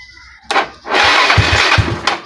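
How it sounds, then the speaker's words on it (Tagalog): A motorcycle starter motor wired directly to the battery cranks the engine in a short burst, then a loud sustained whirring grind with rhythmic low thumps, close up with no talking. "Oh, obviously okay pa yung starter natin."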